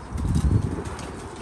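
About 45 hungry young chicks in a poultry house make a brief, dense burst of soft calls, loudest in the first half-second, then fading into a low, steady murmur nearby.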